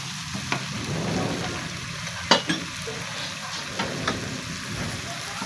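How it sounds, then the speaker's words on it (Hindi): Browned ginger-garlic paste frying in oil as cumin goes in for a mixed dal tadka, a steady close sizzle with brief sharp spatters and spoon clicks. "अब इसमें हम जीरा डालेंगे।"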